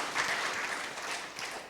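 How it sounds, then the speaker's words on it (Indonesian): Applause from a church congregation at an online worship service: steady, dense clapping at moderate loudness throughout the short stretch, with no voice over it. "berikan tepuk tangan yang meriah dari Tuhan kita."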